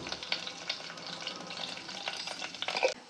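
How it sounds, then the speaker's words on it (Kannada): Garlic and cumin seeds fry steadily in hot oil, giving a continuous close crackling sizzle with soft stirring scrapes throughout and no voices. "ಬೆಳ್ಳುಳ್ಳಿ ಚೆನ್ನಾಗಿ ಫ್ರೈ ಆಗಬೇಕು, ಗೋಲ್ಡನ್ ಕಲರ್ ಥರ ಫ್ರೈ ಆದಮೇಲೆ"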